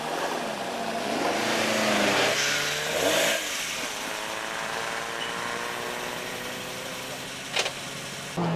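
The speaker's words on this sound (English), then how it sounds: "Chris Commons in the Peugeot 205 GTI." Peugeot 205 GTI rally car at the Lombard Tredegar stage rally, its engine note rising and falling as it accelerates through gear changes, loud and close with a brief sharp burst near the end.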